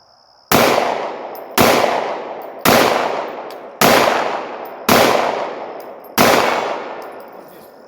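SIG 320 pistol fired at an outdoor target range, six loud sharp shots spaced about a second apart, each ringing briefly before the next.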